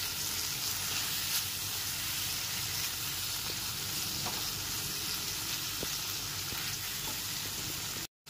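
Spice masala cooks with tomato and a splash of water for paneer butter masala, a constant close hiss and bubbling sizzle with soft stirring that runs evenly before cutting off abruptly near the end.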